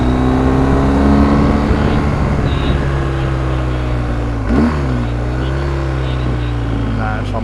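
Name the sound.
vehicle engine revving uphill in first and second gear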